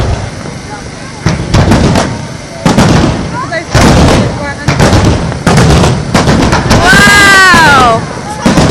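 Fireworks display at Bournemouth beach in summer, loud booming bangs and crackles bursting repeatedly, ending with rising whistling shells, while spectators talk and exclaim nearby.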